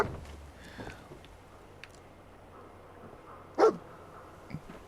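Dogmeat, the dog companion in Fallout 4, gives a single short bark amid faint game ambience, with a few soft yips and scuffles around it; no speech.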